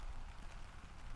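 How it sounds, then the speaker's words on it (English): Rain pattering steadily on a tarp sheltering a car campsite, a dense, even wash of drops with no talk. "It is raining."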